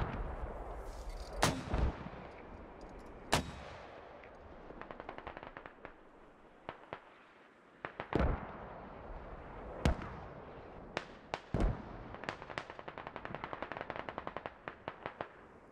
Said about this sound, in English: I'll call in smoke barrage